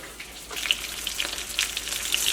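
Chicken pieces deep-frying in hot oil for chicken fried rice, giving a steady close sizzle with small crackling pops throughout and no voices.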